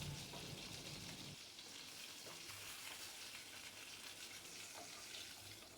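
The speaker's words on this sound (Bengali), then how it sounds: "মাছের দু পিঠই হালকা লাল করে ভেজে নিয়েছি।" Katla fish pieces frying in hot oil until both sides turn lightly red, a close, constant crackling sizzle with faint stirring sounds and no voices.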